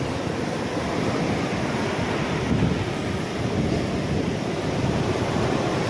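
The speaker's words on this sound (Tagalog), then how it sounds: "Yan po yung maalon talaga ang dagat dito pag may bagyo." Rough sea during a typhoon, with waves surging and crashing in a continuous loud roar, mixed with heavy wind buffeting the microphone.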